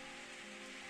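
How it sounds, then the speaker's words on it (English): Soft, steady rain falls in the Steins;Gate game, a faint even patter with a low hum underneath and no voices. "I suddenly hear the sound of rain. I look outside the window and see that rain has started to fall."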